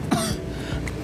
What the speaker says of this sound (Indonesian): Sorry teman-teman lagi batuk.